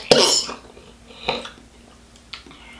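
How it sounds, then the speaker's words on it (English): A single sharp cough up close, followed by two fainter throat sounds, with quiet pauses in between. "I'm about to cough"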